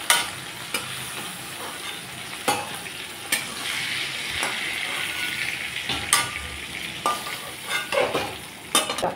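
Shrimp frying in oil in a pan, with a continuous sizzle broken by irregular scraping and clinking strokes as they are stirred and turned, close and fairly loud with no voice.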